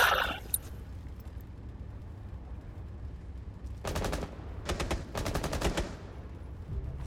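Bursts of automatic gunfire in Rainbow Six Siege, several rapid volleys clustered in the second half over a steady low rumble, fairly close and loud.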